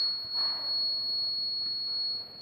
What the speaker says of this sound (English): the detector gives the steady beep sound with steady light indication